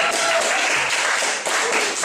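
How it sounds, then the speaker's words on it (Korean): An audience breaks into brief, steady applause that fills the whole moment, with some talking heard among the clapping. "박수 한번 쳐주세요"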